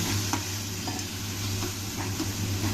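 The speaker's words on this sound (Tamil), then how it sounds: "கொஞ்சம் வதக்கிட்டு கலர் போகிறதுக்குள்ளேயும் கொஞ்சம் தண்ணி விட்டுடுங்க" Steady sizzle of food sautéing in a hot pan, with soft scraping stirs every half second or so, close and continuous with no voices.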